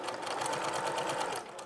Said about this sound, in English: let me head over to the sewing machine and let me see where we are